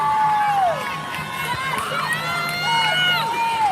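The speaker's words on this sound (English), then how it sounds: "you'll hear a whole bunch of cheering again" A crowd at a women's flag football finals game cheers and shouts loudly and continuously, with high whoops and children's voices rising over the roar.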